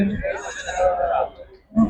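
Goats at a goat market bleat loudly and close by in a brief wavering cry, with a second short bleat at the end.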